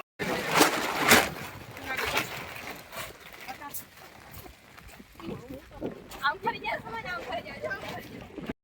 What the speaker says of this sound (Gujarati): તો મિત્રો વરસાદ આવી ગયો જોરદાર